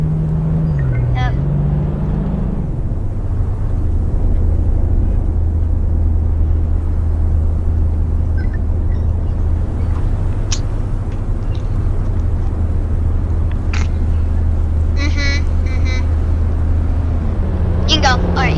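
A video-game car in sport mode runs at speed, with a steady low engine drone and rumble throughout and short higher tones breaking in now and then.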